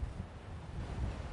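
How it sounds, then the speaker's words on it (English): Wind gusts against the microphone on an exposed stretch of coast near Point Lonsdale Lighthouse, a steady low rumble with no voices. "it's quite windy here"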